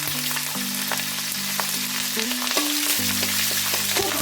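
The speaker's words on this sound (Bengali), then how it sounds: "তেজপাতা, আর গোটা শুকনো লঙ্কা, আর বেশ কয়েকটি কাঁচা লঙ্কা এর মধ্যে দিয়ে দিলাম।" Bay leaves with whole dried red chillies and several green chillies fry in hot oil for a fish-head cabbage curry, giving a steady, bright sizzle over soft background music.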